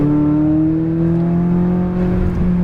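McLaren 570 at full throttle on a track, a loud, steady engine drone with strong harmonic tones that rise slightly in pitch as it accelerates, close and continuous.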